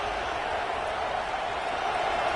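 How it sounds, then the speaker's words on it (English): A packed stadium crowd in the College Football 26 video game roars with a dense, steady wall of cheering noise, loud and continuous with no break. "this crowd is fired up. Listen to this noise here."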